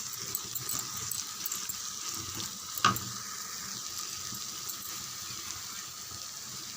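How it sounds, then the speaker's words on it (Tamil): Potatoes, green peas and green chillies sautéing in a pan, giving a steady soft sizzle and crackle throughout with one brief clatter near the middle, and no voices. "நல்லா ஒரு 3 நிமிஷம் நல்லா வதக்கி விடலாம்."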